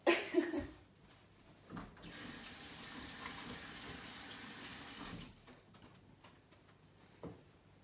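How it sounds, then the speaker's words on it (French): Hands being rinsed under a running kitchen tap after mixing salt dough, with a few clinks at first, then a few seconds of steady gushing water that stops, followed by quiet handling noises. "Je vais me rincer les mains."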